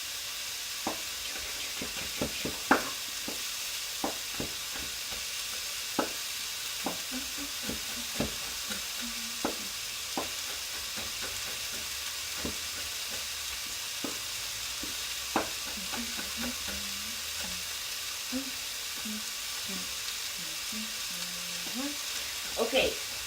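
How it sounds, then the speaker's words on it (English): Apples cooking in a pan while being stirred, with a steady soft sizzle and scattered scraping clicks from the utensil throughout, close and moderately quiet. "So, apples are cooking."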